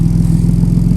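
BMW E36 with a turbocharged M50 B20 engine running, a loud, close, steady low-pitched engine rumble with a rapid pulsing throb throughout, no talk.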